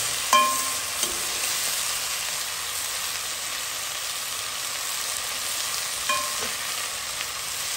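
Tomato fries in a pot for a herring rougail, giving a steady, bright sizzle throughout, with a few light clinks of a spoon against the metal at the start and again later.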